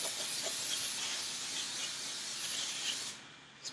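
Pam cooking spray hisses steadily from the can onto a 9-inch cake pan in a kitchen, a continuous close spray lasting about three seconds before cutting off, followed by a faint click.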